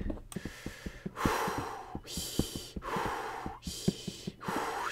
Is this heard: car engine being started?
no